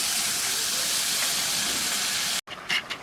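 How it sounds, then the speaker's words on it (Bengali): Water is poured into a pan of frying Bombay duck fish curry with salt and turmeric, giving a loud, steady hiss that cuts off abruptly, followed by a few faint bubbling sounds. "পরিমাণ মতো জল দিয়ে দিচ্ছি।"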